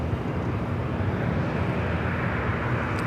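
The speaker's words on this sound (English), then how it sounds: "Alaska Airlines 1317 taking off to Laredo on the 737-900 ER" An Alaska Airlines Boeing 737-900ER taking off from LAX, heard as a steady, broad jet engine roar that holds at an even level throughout, with no speech.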